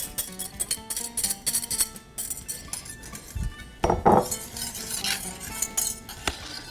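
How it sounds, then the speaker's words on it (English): Dolmades mixture being stirred in a saucepan on the heat, with close utensil scrapes, clinks against the pan and a faint sizzle in an irregular rhythm, no talking. "I'm going to put it in a saucepan and stir it."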